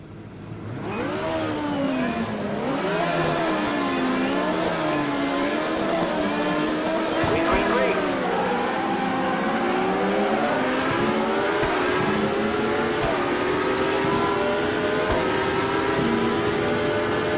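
A V8 Metalmoro AJR race car engine in the Automobilista racing game, 484 horsepower, on a 3-lap race at Guaporé. It roars loud and continuous, with pitch sweeping up through the gears and dropping on thumping downshifts, and no talk.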